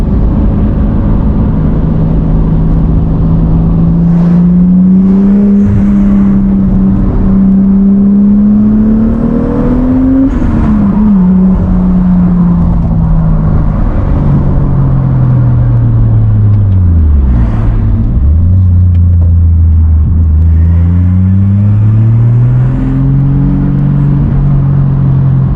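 A 1990 Toyota Supra MK3 turbo pulls hard and loud, its engine note climbing and spooling up through the revs, dropping between gear changes and rising again with a steady whirring rumble throughout.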